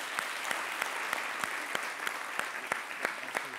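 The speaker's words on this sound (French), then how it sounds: "Merci d'applaudir encore" An audience applauds at a live French-language talk show, a steady, fairly close wash of clapping with sharper individual claps standing out, continuing without speech throughout.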